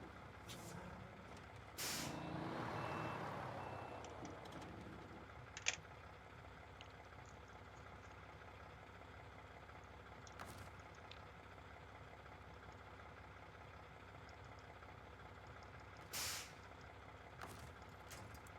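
Air brake of a truck in a video game: a sharp hiss bursts out near the start, followed by a low idling engine rumble with a few brief, faint hisses and clicks later on.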